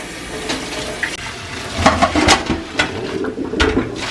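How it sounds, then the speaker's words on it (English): Cooked sweet potatoes being strained in a home kitchen, water pouring and splashing in uneven bursts with clattering against a sink, close and fairly loud, no talking. "Kareem is straining the potatoes that are cooked, ready for our sweet potato puree."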